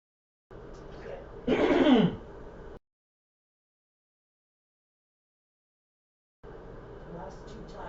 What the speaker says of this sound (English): Last 2 times you did it, I could still hear you clearing your throat.